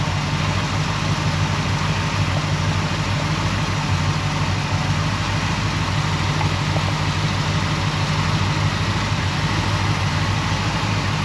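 A 1978 AMC Jeep Cherokee engine idles continuously at close range, a steady, rumbling low throbbing drone with no voices and no change in pitch throughout.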